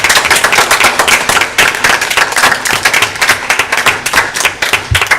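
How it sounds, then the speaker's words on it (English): Board meeting audience clapping for John Weatherby and Eli Garza, loud, dense applause of many hands filling the room continuously from start to finish. "Can we clap for them?"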